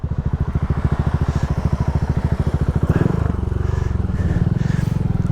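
A Suzuki V-Strom 650 XT motorcycle engine pulses in a steady, loud, close rhythm as the bike sets off, its beat rising slightly as it gets moving, with a voice talking over it.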